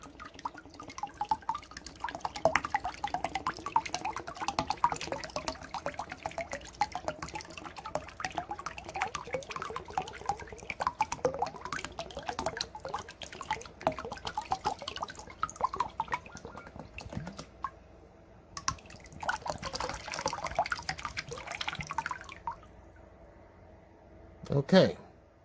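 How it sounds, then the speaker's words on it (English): Water dripping and trickling out of a chia pet as it is emptied, a dense run of close drips and splashes with speech mixed in, tapering to quieter drips near the end. "Empty any water out of the chia pet"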